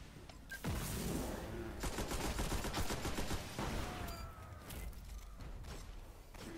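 Rapid video game gunfire, dense bursts of automatic shots with thumps, loud and continuous for several seconds, then thinning into scattered shots.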